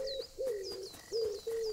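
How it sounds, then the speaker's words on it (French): Common wood pigeon cooing in the wildlife game Alba: A Wildlife Adventure, a soft hollow coo repeated in a steady rhythm, with faint higher bird chirps in the background and no talking. "ça c'est un pigeon ramier"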